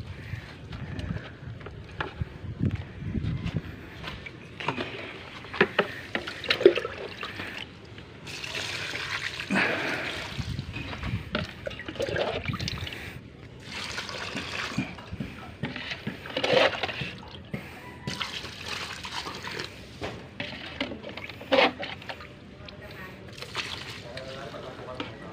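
Buckets of water poured into a mix being diluted for simple termite control at home, giving intermittent splashing and trickling bursts at moderate level, with background voices and activity around it.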